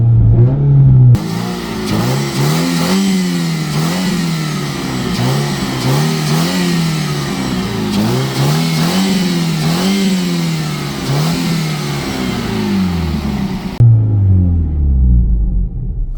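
Rallycross-prepped B16 Nissan Sentra engine revving repeatedly, as heard from inside the cabin: a steady mid-range rumble rising and falling in regular rev cycles for about twelve seconds, fairly loud and muffled, with no talking.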